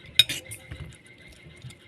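A utensil clinks against a bowl in a quick tap at the start, then soft scraping strokes follow as beaten eggs and dulong are stirred together, close-up and fairly quiet.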